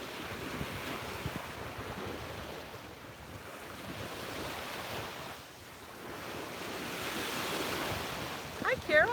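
Ocean waves washing onto a beach at sunrise, a continuous broad rush of surf that swells and recedes, mixed with wind buffeting the microphone, heard alone at low level.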